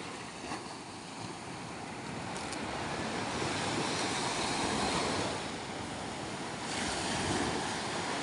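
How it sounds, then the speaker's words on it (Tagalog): Ocean waves wash steadily toward a shallow shore, a broad continuous roar of surf with gentle swells in intensity, mixed with wind buffeting the microphone and no voices. "Yan, nagkaalon-alon na."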